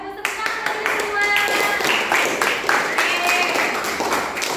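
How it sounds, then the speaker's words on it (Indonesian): Students in a classroom clap their hands together, a burst of crisp, close, uneven claps that soon settle into a rhythmic beat, while a voice speaks and a few tonal sounds ring over them. "Bagus, tepuk tangan untuk semua."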